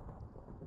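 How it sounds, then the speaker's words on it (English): Thunder from a lightning strike in the Minecraft video game, a short steady low rumble at moderate level, dense in the bass with no voices over it. "Yo, that lightning's probably destroying stuff."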